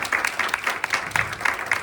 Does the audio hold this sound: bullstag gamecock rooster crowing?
no